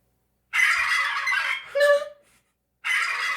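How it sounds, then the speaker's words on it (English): Turkeys gobble in a loud, harsh burst lasting about two seconds, then a short pause and another burst, with no talking. "The turkeys are excited."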